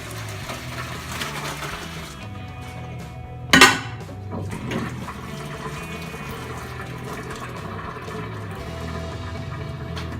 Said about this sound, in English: Go ahead and drain off all the water.